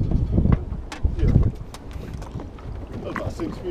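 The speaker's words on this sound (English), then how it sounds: "This wind is cutting through my freaking long sleeve shirt" Wind gusting across a lake during a fishing outing, blustery low rumble with buffeting on the microphone, strongest in the first second and a half, then steady and softer with light water and boat sounds.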